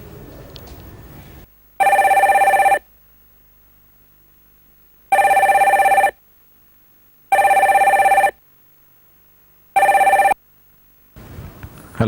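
A landline telephone rings in four loud, evenly spaced electronic bursts with short silences between them, alone with no voices, in a home setting as a family tries to reach a father at his shop.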